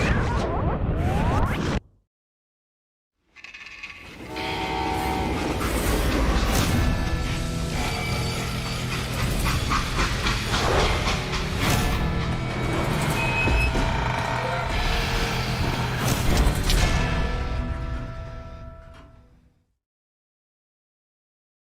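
Train running in a video game, a long continuous mechanical rumble with clanks and metallic squeals that starts after a short silence and fades out at the end.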